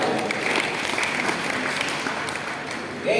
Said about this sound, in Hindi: बोलो एक ताली मार, दूसरे की ताली बजा।